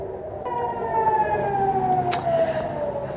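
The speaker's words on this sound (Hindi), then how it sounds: "ये देखिए सायरन बज रहे हैं।" A wailing air-raid siren in Israel during a Yemeni missile attack, with slowly falling tones, sounds steadily at moderate distance, with a short sharp burst partway through.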